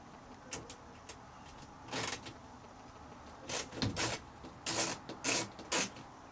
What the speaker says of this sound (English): very gingerly, very carefully take this nut out